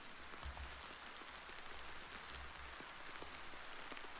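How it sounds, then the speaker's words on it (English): Heavy rain pours down in a story sound effect, a dense, steady hiss of downpour with a low rumble beneath it, unbroken and even throughout. "Soon eternal rain was assaulting them."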